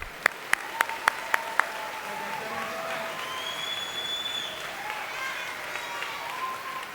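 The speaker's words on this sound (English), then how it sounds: "Let's give them all one big round of applause." A school awards-day audience claps steadily for the award winners. Several sharp, close claps ring out at the start, then the applause settles into a sustained crowd sound with whistles and chatter mixed in.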